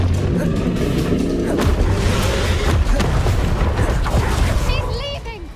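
Explosive Confringo spell blasts in the Hogwarts Legacy game, loud booming crashes over a busy low rumble of combat.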